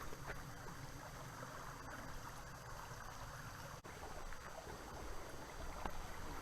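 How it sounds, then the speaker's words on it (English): A creek on the Whipple Lake Trail in Whipple Dam State Park flows steadily, a quiet, even rushing trickle with no voices over it. "I always love the sounds. It's a creek"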